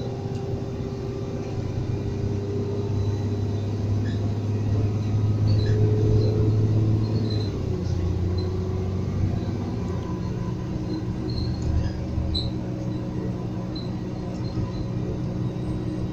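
Steady low engine rumble and road noise fill the cabin of a Quaylink Q2 bus heading to Gateshead, a continuous close drone with faint rattles and no talk.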